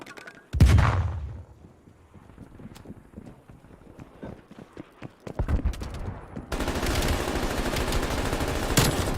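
Light machine gun fire in a video game: a heavy opening shot, then scattered rapid reports, building to a dense, sustained loud burst over the last few seconds.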